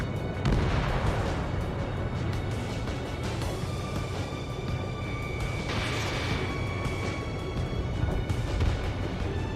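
Missile launches and explosions rumble in the flight combat game Ace Combat 7, a steady dense roar of booms and blasts with rolling bursts throughout, no talk.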